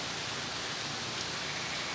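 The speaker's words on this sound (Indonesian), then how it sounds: "Gerimis itu belum berhenti, sahabatku." Light drizzle falls steadily in Medan, a soft continuous hiss of fine rain spread evenly without distinct drops or pauses.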